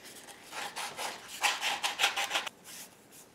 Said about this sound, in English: now what we need to do is touch up any of the rough edges, and I'm using sandpaper to do that